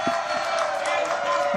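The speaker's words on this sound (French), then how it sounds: "Applaudissements, s'il vous plaît." A studio audience at a French television talk show applauds and cheers for an arriving guest, a dense continuous roar of clapping and whoops that fills the room at moderate loudness.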